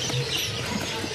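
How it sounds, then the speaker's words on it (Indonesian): Caged SRDC Bali munias (bondol) chirp at a stall in Pramuka bird market, a brief cluster of soft, high tweets over a busy background hum. "ada stok burung SRDC ori Bali"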